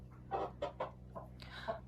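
Young hens and roosters raised together cluck in several short, distinct bursts over a faint steady background hum, fairly quiet and close by.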